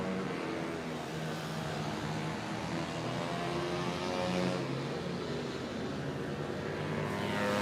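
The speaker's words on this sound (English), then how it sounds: "One of the old vintage Hondas out there working it hard for you." Vintage Honda dirt bikes race in a motocross event, engines droning and revving continuously at moderate distance, several machines blending into one sustained roar.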